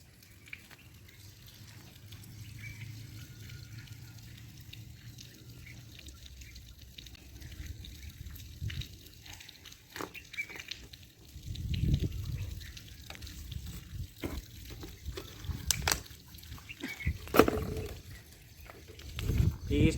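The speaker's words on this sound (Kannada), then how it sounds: "ಇದ್ರಾಗ ಪೆಟ್ರೋಲ್ ಹಾಕ್ತೀನಿ" Petrol poured into a small container for a homemade mini flamethrower, with quiet trickling and dribbling liquid sounds that grow more intermittent and louder toward the end, under a faint, low background.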